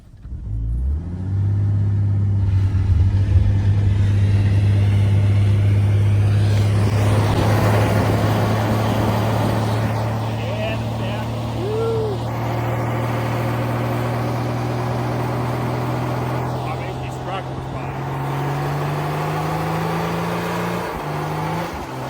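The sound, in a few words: old Ford Falcon engine revving, doing a skid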